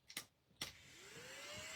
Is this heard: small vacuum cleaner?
yes